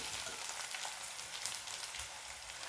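Onions and ginger garlic paste frying in a pan for aloo curry, a steady, even crackling sizzle heard close and continuous with no talking.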